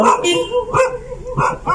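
Several dogs bark at a house in a Filipino village community during a fiesta, sharp repeated barks in short bursts about every half second, mixed with people talking nearby.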